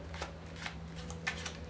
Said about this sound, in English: shuffle the rest on top legitimately, push at the in-jog, create a break, shuffle the rest on top